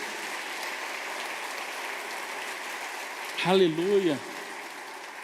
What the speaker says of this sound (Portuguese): Dá um aplauso à palavra do Senhor.